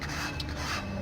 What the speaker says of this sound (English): Now using a scraper you sort of damage the propellers a lot less